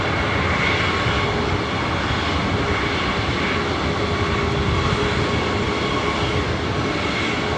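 A Delta Airbus A321 bound for Atlanta takes off from runway 24 right at LAX, a loud, steady engine roar with broad rumbling noise that holds unbroken throughout.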